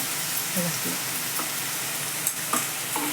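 Modak filling sizzles in homemade ghee while being stirred, a continuous hiss with intermittent scraping and tapping of a spoon against the pan, a voice faintly present beneath.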